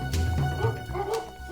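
Labrador dogs bark nearby in short, overlapping yips and woofs mixed with a whimper, a brief burst of several barks.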